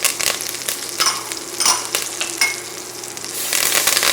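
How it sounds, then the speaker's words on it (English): Garlic, thyme and red pepper flakes hit hot oil in a pan left with browned chicken bits, giving a steady loud sizzle and crackle with a few stirring scrapes and no talking. "So to our already hot oil here, we're going to add some garlic, some thyme, and red pepper flakes."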